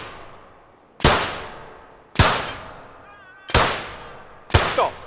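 Gunshots from a shooting event in the London 2012 video game, four loud, sharp reports spaced about a second apart, each with a decaying ring-out.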